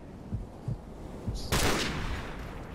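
Gunfire in Call of Duty: Modern Warfare, with a few soft dull thumps followed by one sudden loud shot and its lingering blast tail, no voices heard.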